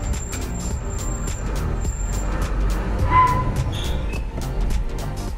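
A 2020 Toyota Prius AWD-e strains to get unstuck with traction control on, its motor and road noise a steady loud drone with intermittent rhythmic clicking and brief whines from the drivetrain.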